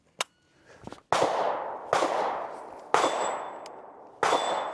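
An M1 Garand rifle fires four sharp, loud shots at irregular intervals, each with a ringing metallic tail and echo, preceded by a faint click and brief handling noise.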